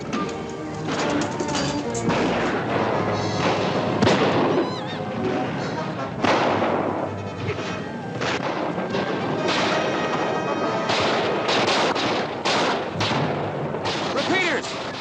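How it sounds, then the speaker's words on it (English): Repeating rifle fire in a 1955 western ambush, with rapid rough cracks and bangs in dense, continuous volleys over noisy battle commotion and shouting voices. "Who's got repeating rifles in this outfit?"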